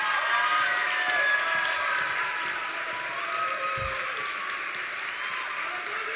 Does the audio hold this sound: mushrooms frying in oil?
no